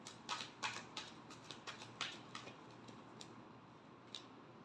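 Tarot cards shuffled by hand during a weekly horoscope reading, a series of soft crisp riffling ticks and snaps at a quiet, close level, bunched early and then thinning out, with no talking.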